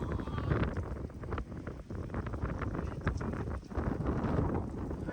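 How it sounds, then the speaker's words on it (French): Strong wind at the seaside buffets the microphone in a steady, loud roar with gusty swells, with no waves audible beneath it. "Bon bah il y a du vent bien fort, mais pas de vague."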